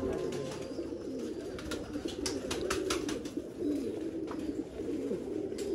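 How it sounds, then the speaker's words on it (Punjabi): Sialkoti pigeons feeding on grain coo steadily and close by, a low murmuring chorus with soft rustling and pecking, with no voices. "ਕਬੂਤਰ ਦਾਣਾ ਖਾ ਰਹੇ ਨੇ"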